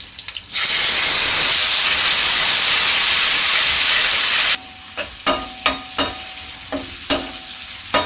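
Spice masala hits a pan of lightly browned cumin with a loud, continuous sizzle for about four seconds, then the hiss drops away to quieter frying broken by several sharp scrapes and clinks of a spoon stirring.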